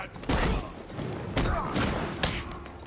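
Gunfire and impacts in Batman: Arkham Knight, several heavy bursts and thuds spaced about a second apart, loud and close, with a voice talking over them.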